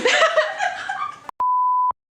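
A short electronic phone beep sounds once as a brief blip, then holds as a steady tone for about half a second, right after a stretch of people laughing and talking.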